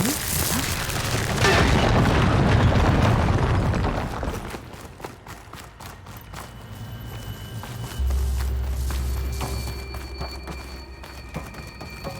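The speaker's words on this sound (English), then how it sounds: "An explosion." A loud, broadband boom bursts from the start in the video game Horizon Forbidden West, rumbling for about four seconds before fading into scattered clatter and a low, steady hum that swells again later.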